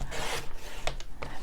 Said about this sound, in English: So I want to trim off some on the side here, just a little bit, maybe about 1/2 inch, 3/4 of an inch or so.